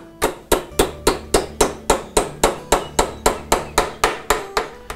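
A picture frame's corners are tacked together with a hammer in about seventeen sharp, evenly spaced blows, close and loud with no talk.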